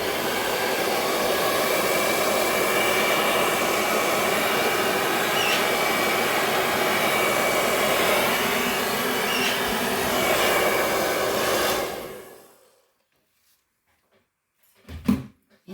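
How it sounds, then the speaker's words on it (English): A handheld hair dryer blows over a fresh resin pour on a ceramic tile, a loud, steady whoosh for about twelve seconds before cutting off to near silence, followed by a brief clunk. "Now I'm just going to kind of blow it out with my hairdryer"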